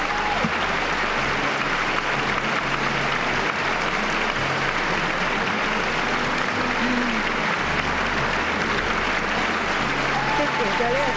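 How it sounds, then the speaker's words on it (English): Applause rains down from all sides of an arena at the 2007 World Figure Skating Championships after a pairs free skate, a dense, continuous roar of clapping with commentators talking over it. "Listen to the applause raining down from all sides."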